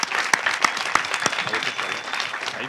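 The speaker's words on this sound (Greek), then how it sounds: "Ένα χειροκρότημα παρακαλώ" A film festival press conference audience applauds steadily, with dense clapping throughout and a few sharper individual claps standing out near the start.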